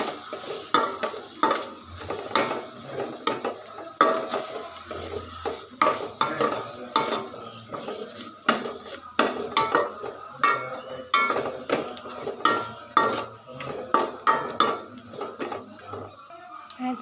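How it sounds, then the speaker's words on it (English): Egg noodles being stirred with garam masala in a pan, a spatula clinking and scraping in quick repeated strokes over a light sizzle, close and continuous without talk. "just mix it all."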